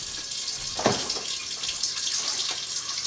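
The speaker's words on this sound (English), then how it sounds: "I'm going to run some water in that Instapot bowl because we're going to use it." Water runs from a kitchen tap into an Instant Pot inner bowl, a steady hissing splash with a few brief louder gurgles as the stream hits the pot.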